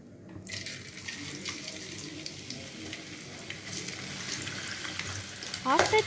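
Oil is poured into a pan for frying potatoes, giving a steady, close pouring hiss that continues for several seconds, with a brief voice near the end.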